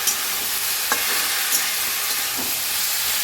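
Malabar spinach being stir-fried with onion and tempering spices in hot oil gives off a steady broad sizzle, with a few soft scrapes as the greens are turned, close and continuous.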